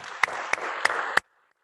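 Audience applause at a State of the College address, a steady wash of clapping with a few sharp louder claps, ending abruptly after about a second.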